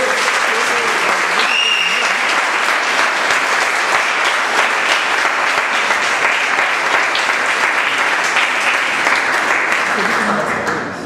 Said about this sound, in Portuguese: Dê uma salva de palmas a Deus pela vida dele.